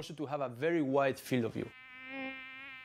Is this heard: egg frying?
no